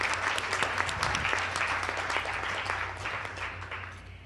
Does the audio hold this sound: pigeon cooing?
no